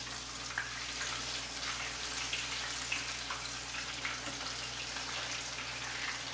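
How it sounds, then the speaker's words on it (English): Breaded macaroni and cheese balls deep-fry in very hot oil, giving a steady, dense sizzle with small pops scattered throughout, close and continuous. "And they're not going to take very long at all to fry up."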